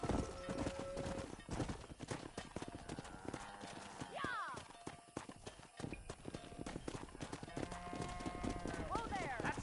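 Horse hooves clip-clop steadily in the Red Dead Redemption video game, with neighs and whinnies breaking in, while voices and game music carry on underneath throughout.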